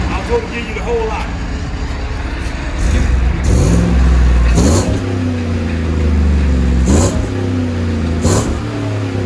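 A 2017 Chevy Silverado with a 5.3L V8 and Flowmaster 40 Series exhaust idles with a deep rumble, then is revved in four sharp blips that swell and fall back, loud and close.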